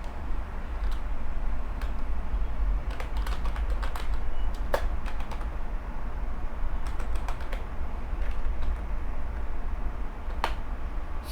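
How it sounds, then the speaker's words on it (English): Fingers tap a computer keyboard in irregular bursts of close, crisp clicks while a motherboard model name is entered on a PC, with short pauses between keystroke runs over a steady low background hum. "I'll type the model name of my motherboard"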